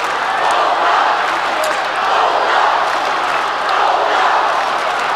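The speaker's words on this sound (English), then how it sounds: "This crowd is roaring, urging the Bulldogs on." A large football crowd roars continuously at the Western Oval as Footscray play West Coast in 1997, a dense, swelling wall of cheering and scattered clapping with no gaps.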